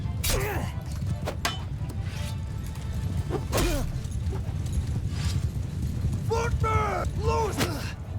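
Mounted archers' horses in Mount & Blade II Bannerlord galloping, with continuous heavy clip-clop hoofbeats rumbling close and loud, and several sharp neighs and whinnies cutting through the battle noise.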